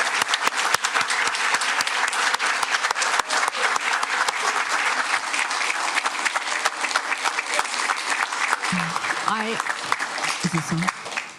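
An audience applauds candidates at a Daly City council forum with loud, continuous clapping. A few voices surface near the end.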